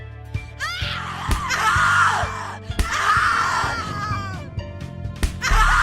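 A woman in The Cat Lady video game screams repeatedly in anguished bursts, loud and close, with harsh gasping breaks between cries over a low droning background score.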